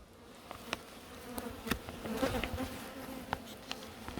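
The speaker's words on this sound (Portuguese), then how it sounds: "Essa é uma espécie de bugia, que é a uruçu amarela." Uruçu amarela stingless bees buzz softly at an open hive, a faint continuous hum with scattered clicks and close passes from single bees.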